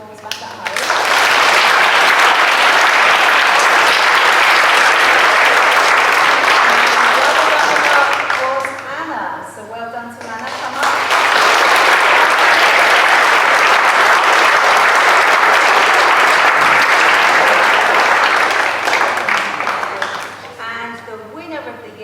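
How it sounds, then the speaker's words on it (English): An audience at a poetry finals gives a long, loud round of applause, which dips briefly in the middle before swelling again and continuing steadily. "we'll give her a round of applause back at home"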